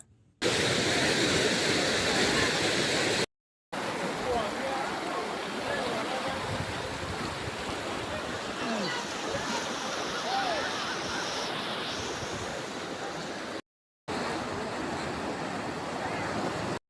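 Water flows steadily through a small canal at Thaapeswaram, a continuous, close broadband rush with a little wind buffeting the microphone and two brief breaks in the sound.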